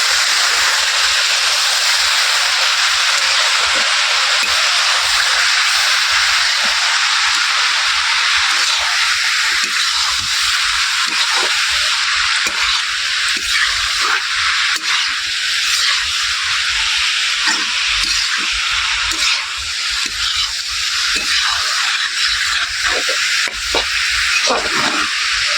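Drumstick (sajna) leaves frying in a pan, a loud steady sizzle and hiss that runs unbroken throughout, with faint scraping of stirring now and then.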